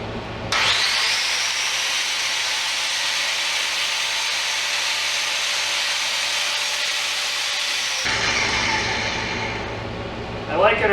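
A Fein WSG8 115 angle grinder spins up and runs with a loud, steady high whine close by, then drops in pitch as it is switched off and winds down.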